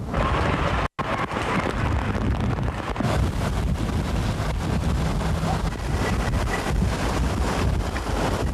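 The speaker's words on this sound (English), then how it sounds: "Its calling card was high winds and crashing waves." Strong wind from a hurricane buffets the microphone in a constant roar, with the heavy wash of surf churning underneath on the Galveston coast at high tide, and a brief dropout near the start.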